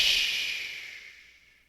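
A voice imitates a train stopping with a puff of steam: one long breathy hiss that starts loud and close and slowly fades away.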